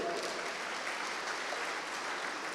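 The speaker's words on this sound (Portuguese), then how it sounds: "Pode aplaudir o rei." Church congregation applauding during a sermon, a soft, continuous wash of many hands clapping at a steady level from start to finish.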